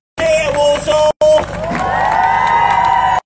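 A large outdoor crowd at a Race for Life charity run in Walsall cheers, whoops and shouts loudly, with children's voices in the mix; a short break, then sustained rising cheering.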